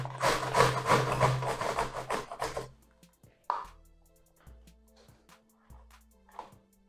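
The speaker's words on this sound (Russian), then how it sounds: "Первым делом мы натираем яблоки на крупной терке." Apples rubbed against a coarse kitchen grater in a loud, steady rasping burst for the first few seconds, followed by quieter scattered knocks and scrapes.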